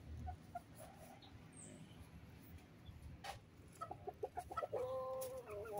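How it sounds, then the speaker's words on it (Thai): Cocoa-coloured bantam chickens cluck softly nearby, a few scattered calls at first, then a livelier run of repeated clucks toward the end over quiet farmyard background. "ไก่แจ้สีโกโก้นะครับ"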